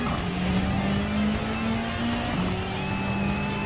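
A race car engine in Gran Turismo 7 drones loud and steady at near-constant revs. Midway there is a brief dip and a quick shift, then the tone settles back into a sustained hum.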